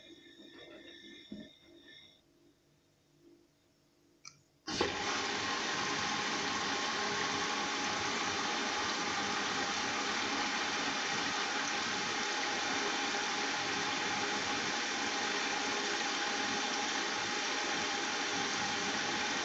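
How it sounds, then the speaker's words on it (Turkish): Washing machine running a Cotton 30° Speed cycle with extra rinse on light and brightly colored clothes: quiet handling, then a sudden steady loud whooshing, rumbling drum and water noise that continues unbroken. "Rengarenk makinenin içerisi. Parlak renkler ve açık renkler yıkanıyorlar."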